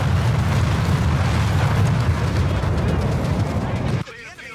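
Artillery barrage in Company of Heroes 3, a dense continuous roar of overlapping explosions and rumble that holds steady for about four seconds before cutting off sharply, with a player's voice over it.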